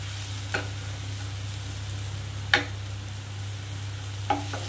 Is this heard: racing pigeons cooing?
no